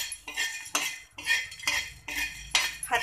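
Whole spices being stirred in a hot pan with the gas switched off for a Khandeshi chicken curry, giving repeated bursts of metallic scraping and clinking in quick rhythmic strokes, close and fairly loud.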